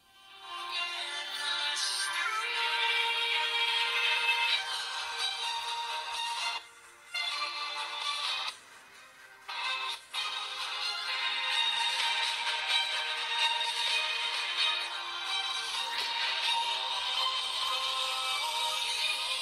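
Royalty-free music from YouTube plays through the small built-in speaker of a Blackview A9 Pro smartphone, thin and bright with weak bass, running steadily with two brief dropouts partway through.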